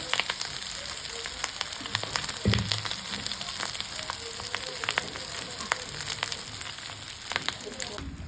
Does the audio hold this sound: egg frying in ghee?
yes